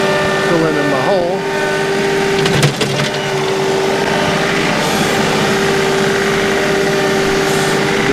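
A HydrosPlus 2R3E compact loader's engine runs steadily and close by, a constant drone with a brief clunk and scrape as soil is pushed into a hole, with a voice talking over it.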